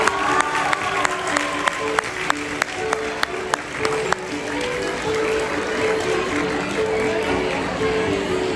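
Audience at a student theater event at Bahria University applauds to welcome a guest, a steady crowd clapping with some sharp louder claps early on and faint background voices.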